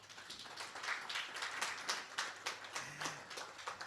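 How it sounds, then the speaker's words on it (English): A meeting room audience claps for colleagues joining from a room in Juba, a quiet, somewhat distant patter of many hands held steadily for several seconds. "Let's give a hand clap for them"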